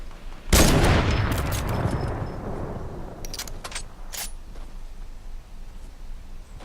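A single powerful sniper rifle shot in Fortnite, loud and close with a long rolling echo, followed by a few faint distant cracks in quieter game ambience.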